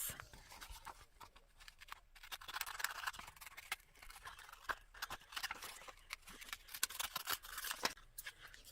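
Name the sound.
small scissors trimming paper card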